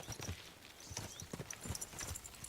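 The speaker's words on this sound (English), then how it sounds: "Easy, good horse." Horse hooves clip-clop at a steady walking rhythm in the medieval video game Kingdom Come: Deliverance 2, soft and moderately close over a low ambient background.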